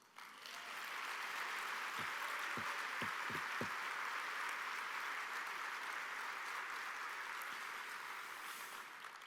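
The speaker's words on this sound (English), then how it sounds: "give my perfect 10 a round of applause" Sustained audience applause at a healthcare convention, a broad steady roar of clapping from a large crowd, with a few low thumps early on and fading slightly at the end.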